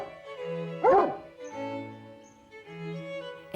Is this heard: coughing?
no